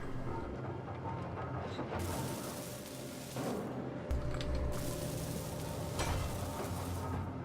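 Grinder tearing through a ship in the game Space Engineers, a continuous harsh, dense grinding roar that shifts in intensity and holds steady throughout.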